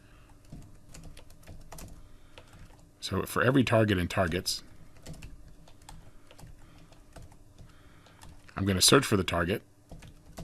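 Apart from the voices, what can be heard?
typing Java code on a computer keyboard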